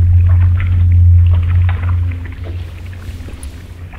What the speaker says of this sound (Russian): звуки, которые издает обычно унитаз,